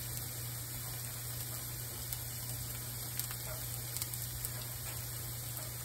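Squash slices frying in a pan for Southern fried squash, a soft steady sizzle with faint scattered pops under a constant electrical hum, quiet and continuous with no talking.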